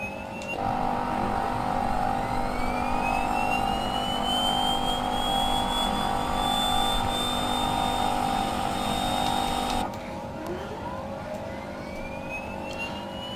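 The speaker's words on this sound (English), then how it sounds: "So let's go ahead and get the left engine started up and running." Left turboprop engine of an Embraer 110 spooling up in Microsoft Flight Simulator, a steady rising whine over a dense mechanical roar that holds, then drops sharply to a lower hum near the end.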